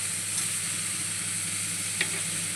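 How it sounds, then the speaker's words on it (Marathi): Onions, green chillies and peanuts sizzle steadily in a hot pan for kanda poha, with a continuous close frying hiss broken by a couple of brief stirring scrapes. "आता याला आपण 2 मिनिटं छान परतू देऊ"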